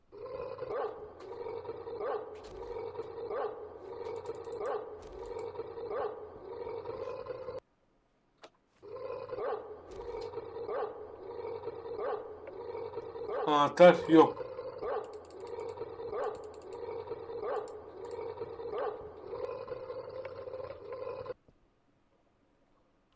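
Dogs barking in the horror puzzle video game The Nightmare Journey, a regular run of repeated barks that stops briefly and then resumes, with a short bit of talk over them.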